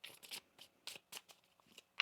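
Tarot cards being shuffled by hand during a reading, a series of quick papery riffles and slaps in irregular bursts, close and crisp, with no talking.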